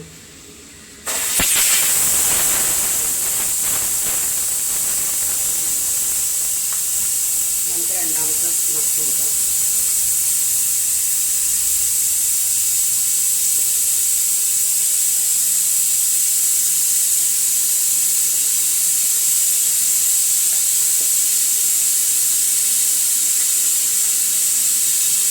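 A loud, steady hiss of steam from appam cooking starts abruptly and runs unbroken throughout, with faint kitchen clatter briefly underneath.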